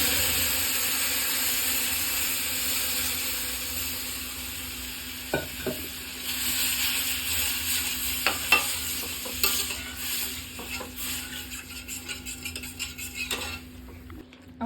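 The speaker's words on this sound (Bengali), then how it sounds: "ঘিয়ের মধ্যে সুজিটা ভালো করে ভেজে নেব" Semolina fries in ghee for suji halwa while a spoon stirs it against the pan, a faint steady sizzle with scattered metallic scrapes and taps growing busier toward the end, over a constant background hum.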